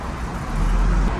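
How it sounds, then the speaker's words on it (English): Traffic noise from a major road running beside an apartment wall: a continuous broadband roar of passing cars and buses, loud and close, swelling slightly. "on this side of me is a major road. And it produces so much noise"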